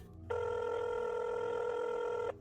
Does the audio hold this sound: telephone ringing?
yes